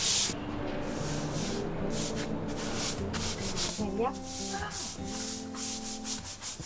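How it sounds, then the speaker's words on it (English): Cleaning powder sprinkled on a stained surface is scrubbed hard, producing rhythmic gritty rubbing strokes up close, steady and fairly loud throughout. "We sprinkled some on the affected area and gave it a good scrub."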